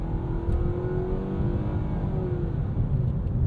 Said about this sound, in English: That was full throttle to pass the Buick there.